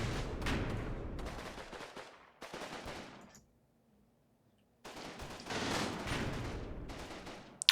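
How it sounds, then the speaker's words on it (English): Rapid bursts of mortar and gunfire explosions from the WWII tactical game Combat Mission, set at Utah Beach, with German mortars landing; dense loud volleys fill the first half, a short near-silent pause follows, then another heavy barrage resumes. "some more mortars coming down, and from the angle, these are German mortars"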